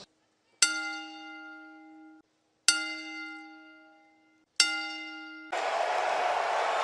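A ceremonial bell salute for wrestling announcer Mean Gene Okerlund rings out in a WWE Raw arena: three loud, clear strikes with long ringing decays, evenly spaced, followed by a swell of crowd noise.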